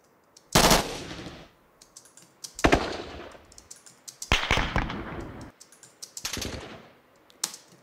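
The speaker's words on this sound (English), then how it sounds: "you see the same example laid out here with these machine guns" Library-recorded machine gun fire, heard as four loud, sharp bursts of rapid automatic shots separated by short gaps, each trailing into a spacious echoing decay, with no voices present.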